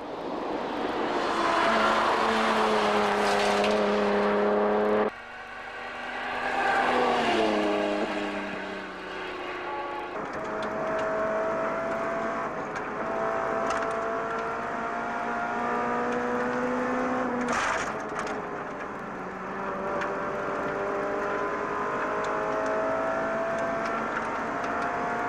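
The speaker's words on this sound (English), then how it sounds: "Making its debut in the rally, Ford has entered a Falcon XR6, driven by Ford racing engineer Steve Hoynvi" A Ford Falcon XR6 rally car racing in Targa Tasmania, its engine loud and close, rising through the gears with sharp shifts, revving hard for about 25 seconds.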